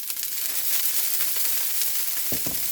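Water sprinkled onto a hot iron griddle for millet dosa hisses in a steady broadband sizzle, with a couple of sharper bursts near the end as more drops hit the surface; no voices.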